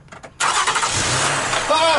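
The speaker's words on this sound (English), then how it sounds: "let's go ahead and try to start the engine" A V-6 engine cranks briefly and catches on a lithium LTO battery, settling into a loud, steady idle close to the recorder after a short burst of starter noise.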